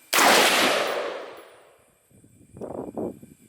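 A rifle fires a single loud close shot after a misfire is cleared with a tap-rack, the blast decaying over about two seconds, followed by a brief stretch of faint talk.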